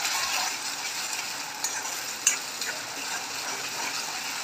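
A ginger, garlic and coriander paste fries in a pan with salt while it is stirred, producing a steady close sizzle with a few soft scrapes and taps of the utensil.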